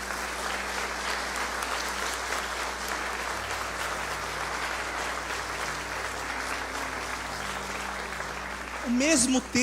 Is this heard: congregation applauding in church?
yes